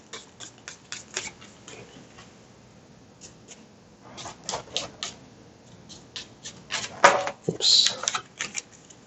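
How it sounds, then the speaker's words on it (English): A deck of cards shuffled at a tabletop during a solo game: bursts of quick riffling clicks and taps, close and fairly quiet, with brief pauses and faint handling noise between the runs. "Sorry, I'm going to shuffle my deck."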